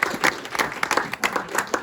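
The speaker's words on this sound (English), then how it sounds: "round of applause for the Railway Children" Audience applause at a village history group's Christmas event, a steady burst of hand clapping from a small crowd, close and fairly loud, with no talking over it.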